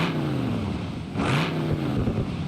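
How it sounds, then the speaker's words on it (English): A race exhaust on a car in BeamNG.drive revs steadily, a droning engine note rising briefly into a louder rasp midway before settling, heard up close with no talk. "Let's hear what the race exhaust sounds like."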